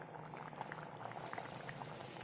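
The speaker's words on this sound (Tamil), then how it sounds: "இது எல்லாத்தையும் நல்லா கலந்து விட்டு 10 நிமிஷம் நல்லா கொதிக்கட்டும்." Spicy elephant foot yam curry (karunai kilangu kara kuzhambu) bubbles in a pot at a steady, close, quiet boil, with small pops and gurgles throughout.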